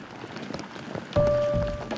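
Rain falling on a march route, a soft patter of drops that gives way to a louder, sustained hiss partway through, with a faint tonal whine appearing alongside.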